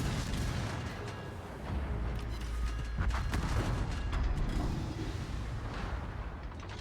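A warship's gun salvo in World of Warships roars as a loud, sustained booming rumble that swells and rolls on for several seconds.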